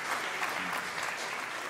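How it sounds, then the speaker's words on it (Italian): An audience applauds a professor at a school event, a steady, dense wash of clapping hands that holds at an even level throughout with no voices above it. "dedichiamogli un applauso"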